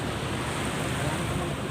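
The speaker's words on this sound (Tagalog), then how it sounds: "Tapos ito ang tabing dagat niya." Sea waves along the Manila Bay shore make a loud, steady surf wash mixed with wind noise, continuous and close, without any clear talking.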